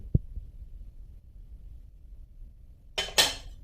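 Porcelain plates bearing maker's marks are handled at a flea market in Kyiv. After a long low hush, they give two quick, bright clinks close together near the end.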